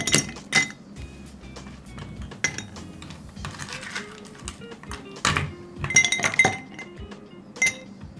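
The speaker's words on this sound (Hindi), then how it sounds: "अब 2 गिलासों में बर्फ़ डालें।" Ice cubes dropped into two drinking glasses while making falsa sharbat, giving a scattered series of sharp, close glassy clinks and rattles with short gaps between them and no talking.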